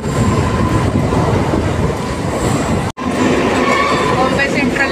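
A train pulls into Mumbai Central on a Mumbai–Junagadh journey, with a loud, continuous rail rumble and wheel noise, a brief cut of silence midway, and voices faintly underneath.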